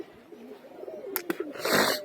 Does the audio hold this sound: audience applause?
no